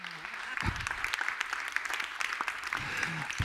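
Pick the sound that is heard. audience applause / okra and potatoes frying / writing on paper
audience applause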